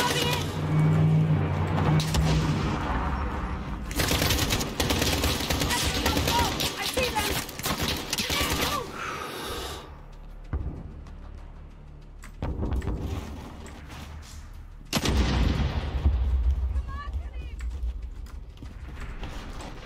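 Rapid gunfire from Call of Duty Modern Warfare comes in long dense bursts separated by quieter gaps, loud and close, with voices talking over it at times.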